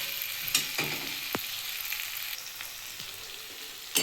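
Potatoes frying in oil in a covered pan, a steady close sizzle and crackle with a few sharp pops and stirring clicks, no voices.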